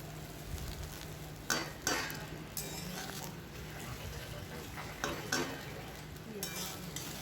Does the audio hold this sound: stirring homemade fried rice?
yes